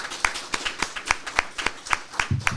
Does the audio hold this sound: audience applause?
yes